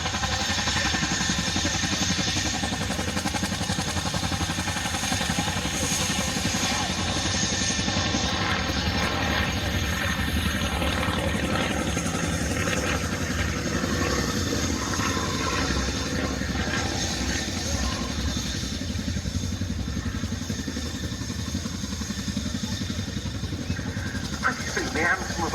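A vintage Avro Anson twin-engine aircraft flies at the Cosford air show, its steady loud propeller and engine drone filling the air continuously, with a commentator talking over it.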